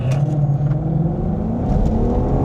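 Ford Shelby Mustang GT500 and BMW M4 Competition launching off the line in a street drag race, with a loud, steady engine roar and a low harmonic drone that rises slightly in pitch as they pull away.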